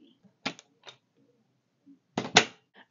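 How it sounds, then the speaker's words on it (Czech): Handles on cruise ship cabin doors give crisp mechanical clicks, two separate snaps and then a quick double snap, close by in an otherwise quiet room. "Co se mi ale tady líbí, tak jsou ty kliky, protože oni dělají úplně zvuk"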